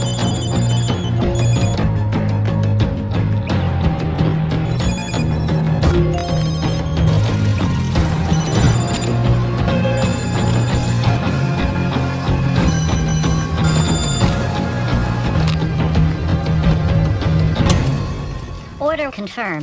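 Several telephones ring over a loud, dense film score in John Wick: Chapter 2 as an assassination contract goes out to hitmen's phones. Repeated bright ringing tones continue for most of the stretch.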